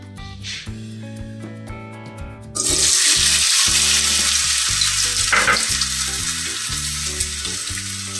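Diced potatoes tipped into cumin seeds in hot oil, quiet clinks and a soft hum giving way to a sudden, loud, sustained sizzle that continues steadily, no talking.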